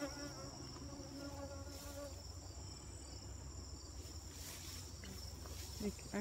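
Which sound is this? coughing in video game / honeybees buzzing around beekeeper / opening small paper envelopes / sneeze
honeybees buzzing around beekeeper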